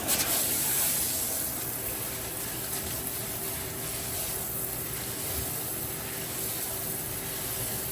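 Water sprays over potted plants in a steady, close hiss that runs unbroken from start to finish, with no voices over it.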